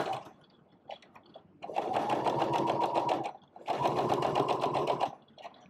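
A sewing machine stitches baby booties in two sustained bursts of rapid, even needle chatter, with quieter pauses and lighter start-stop stitching between them.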